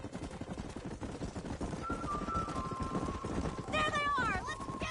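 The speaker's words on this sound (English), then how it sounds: "Let's go rope some horses just like in the good old days" Horses gallop in the Western video game Red Dead Redemption, a steady clatter of hooves under continuous talk, with a bright rising whistle-like tone and a brief burst near the end.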